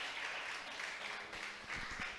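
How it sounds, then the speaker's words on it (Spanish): A church congregation applauds in a muffled, distant wash of clapping that runs steadily for about two seconds, with some low background thumps. "¿Cuánto le dan un aplauso a Dios por su palabra,"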